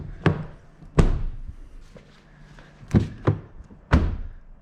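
Vehicle doors closing in a series of solid thunks, six or so irregularly spaced heavy shuts, close by with no talk.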